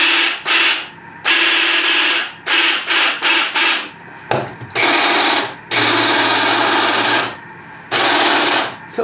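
Thermomix TM5 kitchen machine mixing oil, salt, garlic and dried oregano, a loud whirring motor running in repeated bursts of a few seconds each with short pauses between, close and dominant.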